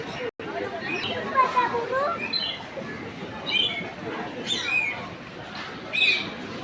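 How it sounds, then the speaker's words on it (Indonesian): Birds chirp and call in short bursts inside a spacious aviary during an outing in Bukittinggi, with a child's and adults' voices and a busy crowd murmur around them. "Burung terbang bebas di dalamnya."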